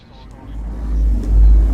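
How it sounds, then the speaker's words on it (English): Spaceship engines in Elite: Dangerous spool up as the ship releases from a station, a deep rumble swelling steadily louder over about two seconds, with a faint voice over it. "Engines engaged"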